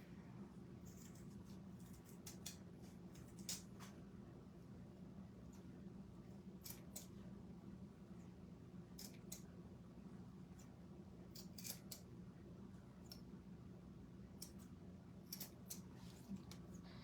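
Scissors snip the ends of a handmade Easter garland, giving a scattered run of short, faint cutting clicks over a steady low indoor hum.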